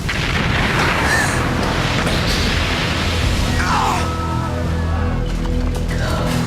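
A massive volcanic explosion of Krakatoa is rendered as a continuous, loud, deep rumbling roar that fills the whole stretch, with faint tonal sounds rising late in the mix.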